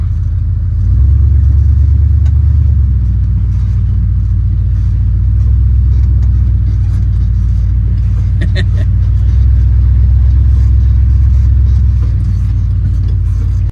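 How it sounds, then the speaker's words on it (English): An Oliver crawler tractor rumbles steadily at close range, its low, loud engine drone holding throughout as it drives over wet ground in four-wheel drive, with a few faint clanks partway through. "maybe we'll just hit 4-wheel drive here before we get into trouble"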